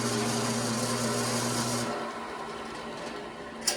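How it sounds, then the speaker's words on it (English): Used bandsaw with all covers removed, running in a workshop as a steady motor hum with a high whine that cuts off partway through as it winds down, followed by a quieter rumble and a brief clunk near the end. "I'm just going to fire it up to show you guys."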